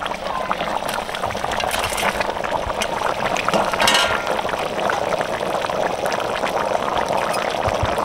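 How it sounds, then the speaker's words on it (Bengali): Fried boal fish and the rest of the contents tipped together into a cooking pot outdoors in a rural kitchen, a loud continuous wet pouring and splashing rush with bubbling underneath, close and steady for several seconds. "মাছ দিয়ে দিচ্ছি, ভেজে রাখা মাছ। সব ঢেলে দাও একসঙ্গে।"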